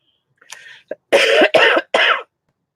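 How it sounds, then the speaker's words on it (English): A few harsh coughs close to the mic, a small hack followed by three loud, rough bursts in quick succession. "Pardon the cough."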